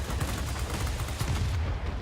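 The nose and wing guns of a Bell P-39N-1 fighter fire in the World of Warplanes game, a dense, continuous rattle of rapid shots with deep booming low end and no pauses.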